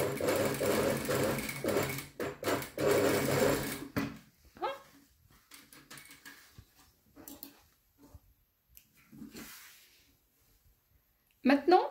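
An industrial sewing machine stitches a seam through fabric for a French seam in short, loud bursts of rapid mechanical chatter during the first few seconds. After that, someone speaks French over quieter handling sounds, and a brief final burst follows.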